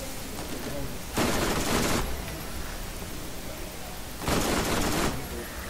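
Two loud bursts of rapid gunfire from a weapon in Borderlands, each lasting under a second, rattle out against a constant hiss of background game noise.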